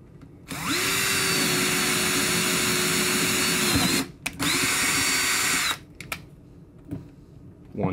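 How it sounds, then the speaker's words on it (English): A power drill whines steadily for about three seconds while drilling into a speaker kit panel, stops briefly, then runs again for another burst before cutting off. A few faint clicks follow. "And now we need to drill into the panel."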